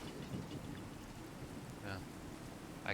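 Fallout 4 rain from the True Storms mod, a constant hiss of falling water with faint low rumbling underneath and a few short bits of voice over it.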